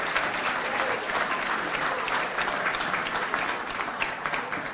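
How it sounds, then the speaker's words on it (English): A room of guests at a high school football banquet gives a sustained, dense round of applause, steady and fairly loud from start to finish, with no voices rising above it. "Round of applause to the captain's parents."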